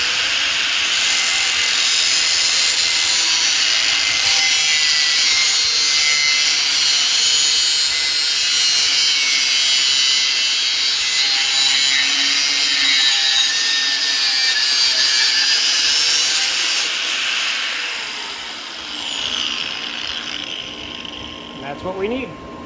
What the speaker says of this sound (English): Cutting off our length.